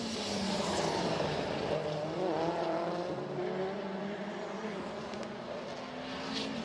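Touring cars racing at WTCC Hungary, a continuous engine drone with rising and shifting pitch as cars pass at speed, heard from a moderate distance without talk.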